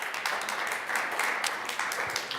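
A conference crowd at an energy event applauds to welcome a biogas company's CEO, giving a soft, even wash of many hands clapping together, moderately distant and without clear pauses.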